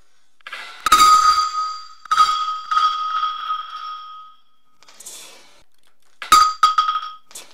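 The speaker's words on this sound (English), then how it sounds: "I'm gonna drop this ball and we'll see if we can finally crack this screen." A ball dropped from 7.5 feet strikes an Amfilm tempered glass screen protector on an iPhone 13 Pro Max, giving a sharp glassy clink, several ringing bounces that fade, then a second quick cluster of clinks.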